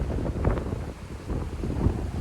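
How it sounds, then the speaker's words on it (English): Strong wind howls and buffets the mic out on the water during a mud crabbing trip, rough gusty rumbling with some wave wash. "Yeah, it's pretty windy."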